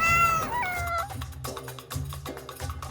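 A person mimics a big cat with a drawn-out, wavering meow that slides downward and then breaks into rougher yowling calls, loud and close with nothing else behind it.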